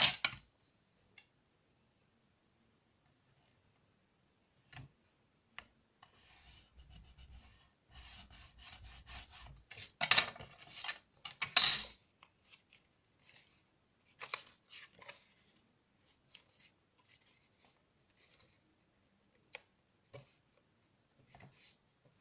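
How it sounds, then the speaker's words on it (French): Paper fold being pressed and creased by hand while making a pull-tab birthday card, scattered soft rasping rubs and taps, with a couple of louder scraping passes in the middle, close and otherwise quiet. "Et donc là, je marque correctement mon pli."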